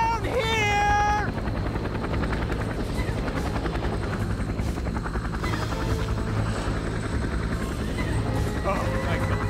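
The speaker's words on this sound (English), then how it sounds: "Doc, make sure you film me as I'm running toward the helicopter, okay?" A helicopter in the video game Men of Valor, its steady, close rotor thrum running throughout, with shouting and voices over it near the start.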